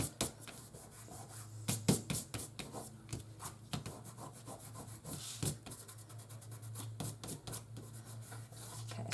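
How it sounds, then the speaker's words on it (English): Glue being rubbed off a cardstock carton box by hand, a quick series of close, dry scuffing and rubbing strokes in an irregular rhythm, fairly quiet with no talking. "I have some glue there, so I'm going to just rub that glue off."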